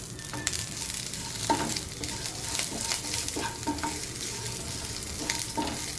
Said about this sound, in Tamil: வெங்காயம் கொஞ்சம் நல்லா வதங்கட்டும், அதுக்கப்புறம் நம்ம பெருங்காயம் சேர்த்துப்போம்